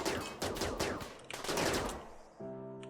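Charge rifle gunfire in the video game RimWorld (Alpha 13), a loud, rapid volley of overlapping shots and impacts that thins out, then gives way to a steady humming tone at the end.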